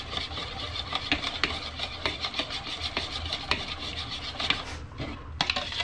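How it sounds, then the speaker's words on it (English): A whisk beats a sauce mixture for smoked panfish in a bowl, with quick, close scraping and rhythmic clicking strokes repeating steadily throughout. "And whisk it together until it's all combined."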